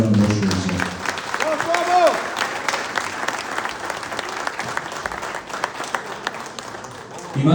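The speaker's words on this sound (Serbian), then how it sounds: "molim vas, veliki aplauz" A crowd at a pigeon breeders' assembly applauds with dense, sustained clapping that fills the hall for several seconds, with a speaker's voice briefly at the start and end.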